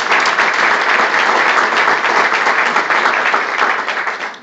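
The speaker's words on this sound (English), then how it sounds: "Please give them a round of applause." Loud, continuous audience clapping at a Tennessee county state-of-the-county address: a thick, even wash of many hands that holds steady throughout and tapers off in the final moment.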